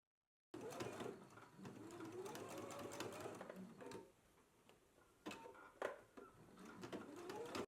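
A sewing machine stitches a spiral rose fabric flower along its placement line with a steady close whirring hum that pauses and restarts, while doves coo faintly in the background.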